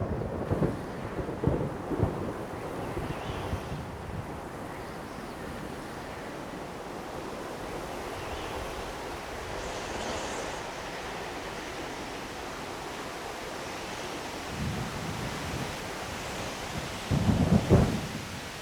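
A rainforest thunderstorm in the rainy season, with heavy rain pouring in a constant wash and low rumbles of thunder rolling near the start and again toward the end.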